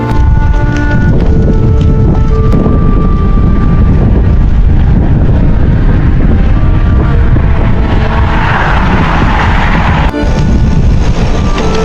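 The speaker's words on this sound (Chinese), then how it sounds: "顺风真的太爽了" Wind blows across the microphone while cycling with a tailwind along a lakeside highway at Qinghai Lake in winter, making a loud, continuous buffeting rumble that covers the whole stretch with no talking.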